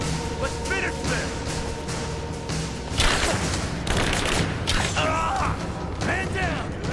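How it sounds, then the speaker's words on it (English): Gunfire laying down covering fire in the Rise of the Tomb Raider video game, set in abandoned mines: bursts of rapid shots and clattering mechanical impacts over steady background noise, loud and continuous. "Laying down covering fire."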